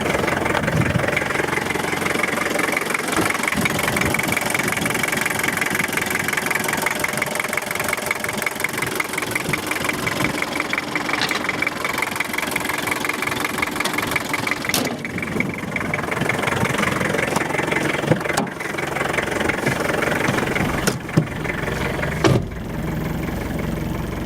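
A Toyota Hilux Surf engine running steadily near the open bonnet, a constant mid-pitched idle hum with a faint knocking texture and occasional clicks, fairly loud and without talk.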